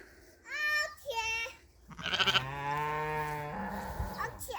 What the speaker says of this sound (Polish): Owce, owce, owce, owce, owce.